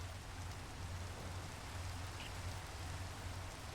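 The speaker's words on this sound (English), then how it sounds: "I can get rid of this rain" Steady rainfall in a Minecraft modpack game world, a constant, even hiss of falling rain that holds at one level throughout with no thunder or talk.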